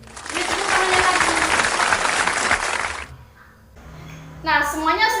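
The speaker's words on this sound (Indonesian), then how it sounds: "Beri tepuk tangannya lagi." Classroom applause for students presenting news texts: a burst of clapping from a group for about three seconds, then a lull and a voice speaking.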